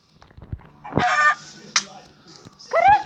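Chicken clucks and squawks from a Minecraft game, a few short bursts with bird-like calls, fairly close and clear.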